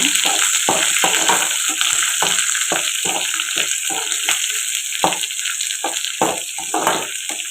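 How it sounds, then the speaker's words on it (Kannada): Onions fry in a pan until they turn reddish-brown, giving a steady loud sizzle throughout with frequent stirring scrapes and clicks on top. No one speaks. "ಸ್ವಲ್ಪ ಇದು ಬಣ್ಣ ಬರೋ ಥರ ಫ್ರೈ ಮಾಡಬೇಕು ಕೆಂಪು ಬಣ್ಣ ಬರೋ ಥರ"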